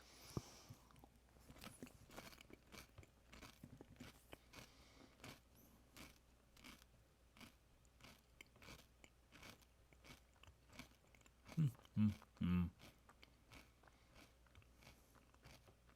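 Crunchy snacks are chewed close to a microphone during a quiet game stream, a faint steady run of small crunches with a few louder bites near the end.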